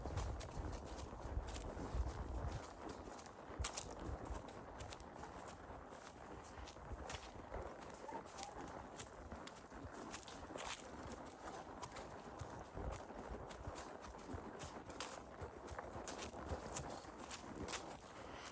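A ridden horse walks outdoors toward a creek, its hooves clip-clopping in a steady, continuous rhythm close to the rider, with rustling and handling noise around it and no talk.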